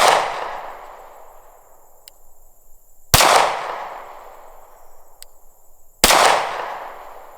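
Three sharp, loud shots from a Sig P365XL pistol at an outdoor range, evenly spaced about three seconds apart, each with a ringing echo tail and faint steel-target pings in between.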